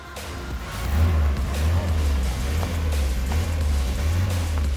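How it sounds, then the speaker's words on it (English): A 1974 BMW 2002 barn-find car, smoking oil, roars as its engine is floored, a low steady drone swelling and wavering under background commotion. "Rip, floor it! Floor it"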